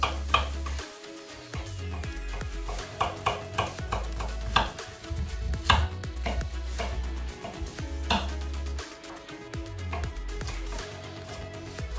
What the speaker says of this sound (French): tous les poivrons ont été taillés